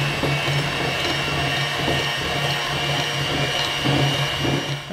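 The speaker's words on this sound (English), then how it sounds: "Now with a hand mixer or stand mixer, let's cream these together." Electric hand mixer creaming white and brown sugar with butter for chocolate crinkle cookie dough, a steady close motor whir with a low hum and slight beating rattle throughout, no talk.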